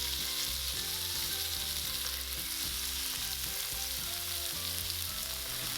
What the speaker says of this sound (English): We're gonna pan fry until the surface is golden brown, 30 seconds on each side.